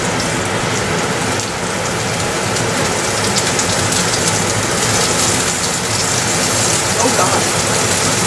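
Short ribs sear in a very hot pan, filling the space with a loud, dense, continuous hiss like heavy rain, steady and unbroken throughout, with no voices.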